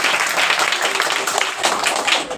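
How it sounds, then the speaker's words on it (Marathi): Children in a classroom clap together during a draw-and-act activity, a dense, steady patter of many small hands lasting the whole moment, close and fairly loud, with faint voices mixed in. "टाळ्या वाजवायसाठी"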